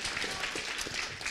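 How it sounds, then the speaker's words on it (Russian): Audience applause for a speaker named Liza at a youth forum session on bullying, a dense steady wash of clapping from a crowd, fairly quiet and distant. "Аплодисменты Лизе."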